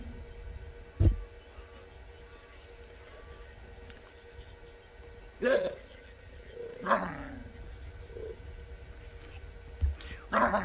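African wild dogs in Kenya's Maasai Mara give a few sharp, distant barks and yips spaced apart, faint against a quiet outdoor background.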